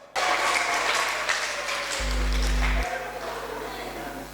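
A church congregation claps together during a worship service, a dense, steady wash of applause with voices mixed in.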